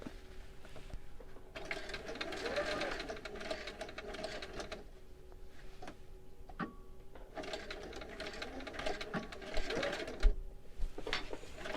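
A sewing machine stitches in a zipper in bursts of rapid, steady mechanical whirring, stopping and restarting several times with brief pauses between runs.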